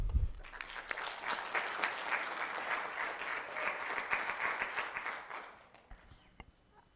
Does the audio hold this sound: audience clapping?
yes